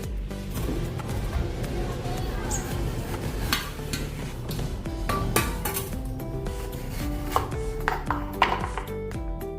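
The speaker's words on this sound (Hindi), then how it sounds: "अभी इसको हम काट लेंगे।" A knife cutting a ripe mango, with repeated crisp cuts and knocks on a board and some clinks of utensils against a dish. The sounds are fairly close and come at an uneven pace, with no clear talking.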